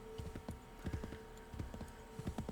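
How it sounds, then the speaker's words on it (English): Horse hooves clip-clop in a steady walking rhythm in Assassin's Creed III, close and clear, over a low ambient hum with no talking. "Ooh, I like this horse."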